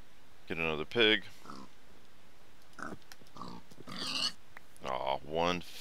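A pig in Minecraft, modded with Better Than Wolves, oinks and grunts in several short, clear bursts spread across the moment, fairly close and moderately loud, with no talking over them.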